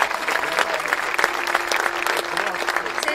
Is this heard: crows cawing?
no